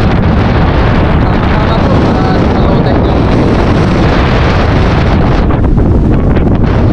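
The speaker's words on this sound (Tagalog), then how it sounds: "Medyo mahangin nga lang po." Strong wind buffets a microphone outdoors by the water at a fishing spot, roaring loud, steady and broadband throughout, with no distinct other sounds.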